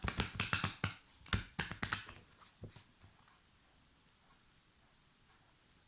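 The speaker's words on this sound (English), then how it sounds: "I'm just going to give these cards a shuffle." A quick burst of crisp tarot card riffling and tapping, close up, then a few softer clicks before fading to quiet.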